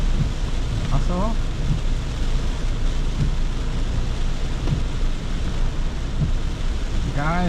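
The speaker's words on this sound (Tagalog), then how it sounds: "ang lakas ng ulan dito sa Iba, Zambales" Heavy rain pours in Iba, Zambales as a steady, dense roar from start to finish, with brief bursts of voices rising over it now and then.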